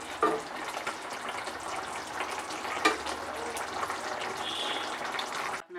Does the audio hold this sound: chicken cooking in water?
yes